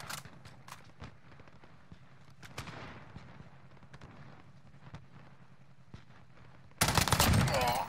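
Scattered gunshots in Call of Duty Warzone, a series of sharp separate cracks at varied distances over a quiet bed, ending in a sudden loud burst of blasts and rumbling.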